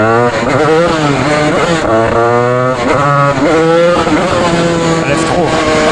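A Yamaha DT 86 two-stroke motorcycle with an aftermarket exhaust pipe revs hard and close, rising and falling in repeated sweeping pulls; a voice talks faintly beneath the engine.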